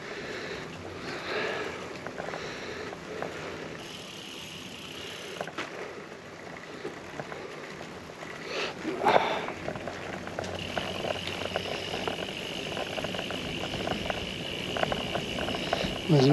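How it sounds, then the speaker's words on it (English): Steady high whirring from a recumbent trike's drivetrain, the rear derailleur or a front FNO gear hub in second gear, rising out of wind and road rumble about two-thirds of the way through and continuing to the end, with no talk. "starting to hear a whirring noise. I can't work out whether it's coming from the rear derailleur or that FNO at the front."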